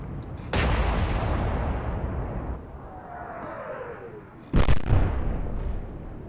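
Heavy naval gunfire from 15-inch shells in the Atlantic Fleet game at the Battle of the Denmark Strait: a loud deep boom, a long rumbling decay, a faint whistle, then a second heavy blast.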